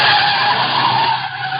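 A souped-up car speeds along and skids, a loud, steady tire screech over engine roar heard as a radio drama sound effect.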